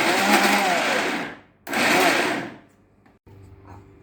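A mixer grinder grinds soaked dal with coconut into a coarse paste without water, a loud, dense motor whir running in two bursts with a short stop between, then falling to a quiet low hum.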